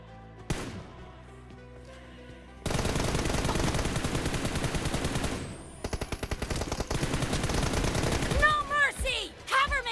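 Sustained automatic gunfire in a first-person shooter battle, rapid continuous bursts that stop, then resume in choppier strings and end with ricochet-like whines, loud and close, with a voice talking over part of it.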